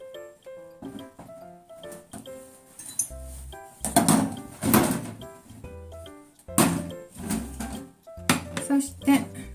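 Clinking and scraping of a utensil against a bowl while stirring blended persimmon and soy milk, irregular knocks and rattles at close range.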